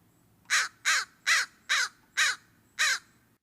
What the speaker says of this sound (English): while crows have cawing calls.